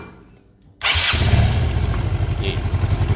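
A Yamaha Mio scooter with a compression leak cranks and catches abruptly after a short quiet stretch, then settles into a loud, steady, close-up idle with a pulsing putter.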